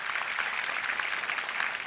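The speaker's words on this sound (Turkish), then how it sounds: "bir alkış rica edeceğim sizden" Studio audience applauding during a TRT radio music broadcast, a steady, dense wash of clapping held at an even level for the whole stretch with no voices on top.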